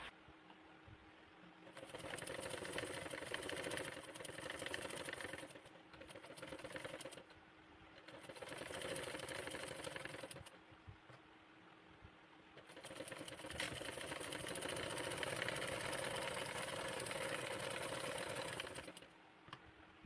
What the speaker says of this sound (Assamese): এতিয়া এই চিলনিটোৰ ওপৰতে চিলাই দিম। চাওক কেনেকৈ চিলাম।